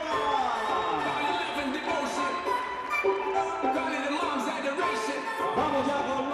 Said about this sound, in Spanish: ese aplauso para nuestra mascota